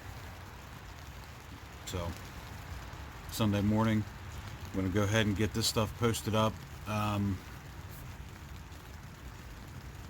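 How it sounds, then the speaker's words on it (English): Rain falls steadily outside a tent, a soft continuous patter running throughout the clip as someone speaks over it in short phrases. "it's still raining."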